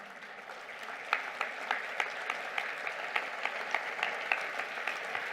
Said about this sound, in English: Stop applauding.